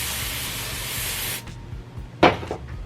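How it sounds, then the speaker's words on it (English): Not Your Mother's Clean Freak dry shampoo sprays onto parted hair near the roots in one long, close, steady aerosol hiss, followed by quieter handling noises and a short second burst. "I'll part my hair and I'll spray near the root"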